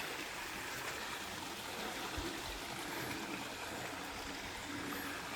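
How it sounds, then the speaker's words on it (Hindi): Water of a small mountain stream running down beside a valley path, a steady even rush and trickle heard close and unbroken, with no talk over it. "जो पहाड़ से नीचे जो एक नाला कह लें आप, तो पानी की आवाज़ आ रही होगी आपको।"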